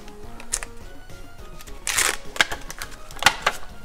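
Plastic packaging of a Dollar Tree dinosaur LED projector crinkles and clicks as it is opened, giving a string of close, sharp snaps and rustles with a louder crackle partway through.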